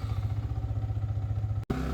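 A Yamaha R15M motorcycle runs steadily while being ridden at night, its engine giving a close, even pulsing thrum that cuts out for a split second before resuming.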